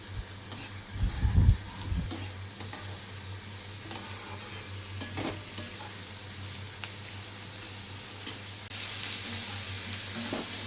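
Chilli chicken with green chillies, capsicum and spring onion sizzling in a pan while being stirred, with scrapes and clinks of a spatula over a steady hiss and a low hum, loudest early on.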